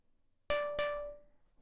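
A synthesized tom drum from an Ableton drum synth hits twice in quick succession, each a sharp attack with a sustained pitched tone that rings and slowly decays, close and clear with no other sound.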